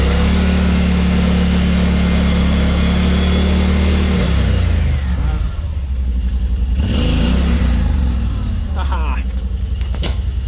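A 2023 Yamaha Wolverine X4 side-by-side running, a loud steady engine drone near at hand that shifts and rises as the vehicle drives off.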